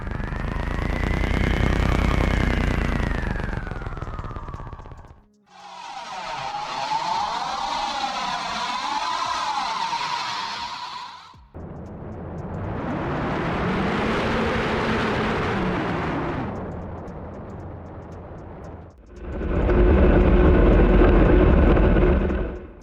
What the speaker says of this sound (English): So I set up several RTPC curves, mainly to modify the engine sounds during acceleration.